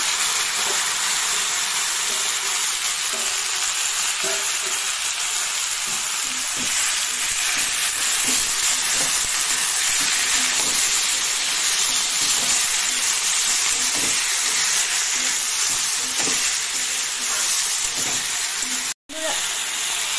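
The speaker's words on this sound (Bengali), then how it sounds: "এই যে দেখতে পাচ্ছ শুটকিটা ফ্রাই হয়ে গিয়েছে। এখন লতা," Dried fish (shutki) and lata frying in a pan give a steady loud sizzle, continuous crackle with faint stirring clicks throughout, close and alone.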